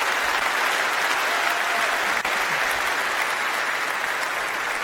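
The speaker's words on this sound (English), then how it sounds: "Let's give them a round of applause for the hard work and making it to Vegas." Sustained applause from a large keynote audience at a security conference in Las Vegas, dense and steady throughout at an even, fairly loud level, with no talking over it.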